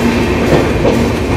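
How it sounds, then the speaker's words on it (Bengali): The Sealdah-Jalpaiguri Road Express pulls out of platform 3 at New Jalpaiguri with loud, close rumbling and clattering wheels over the rails, heard briefly and alone. "এখন আমাদের ট্রেন এনজিপি অর্থাৎ নিউ জলপাইগুড়ির 3 নম্বর প্ল্যাটফর্ম ছেড়ে বেরিয়ে যাচ্ছে"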